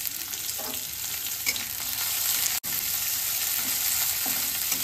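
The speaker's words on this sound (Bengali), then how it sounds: "আলু পেঁয়াজ সব কিছু একসাথে ভেজে নেব" Potato, onion, garlic and chopped green chili fry in a pan with a steady, dense sizzle, broken by occasional stirring scrapes and one abrupt brief dropout midway.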